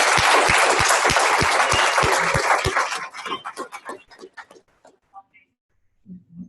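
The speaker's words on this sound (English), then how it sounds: "let's give her a big round of applause" Applause from a seated audience at a campus talk, loud and dense at first, then thinning into scattered claps before fading out, with a little voice at the very end.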